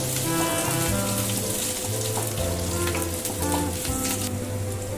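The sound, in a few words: chopped garlic and ginger frying and being stirred in a pan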